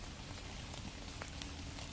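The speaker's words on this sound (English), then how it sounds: "It can rain like this for 3 days, 4 days, 5 days in a row, constantly, just doesn't stop. Very, very, very gentle rain." Very gentle, steady rain falls in the woods, a soft continuous patter with a few faint individual drops standing out.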